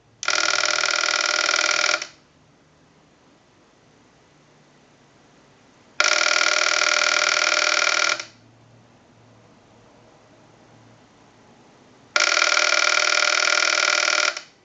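A TA954 military field telephone rings in three long electronic bursts of about two seconds each, evenly spaced with quiet gaps between, loud and close with no talking.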